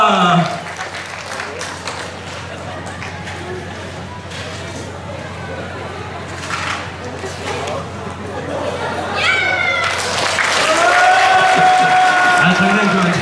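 At an outdoor magic show during a Marine Corps battle victory commemoration, a crowd claps at length amid murmuring chatter. The applause grows louder toward the end as voices and cheers rise over it.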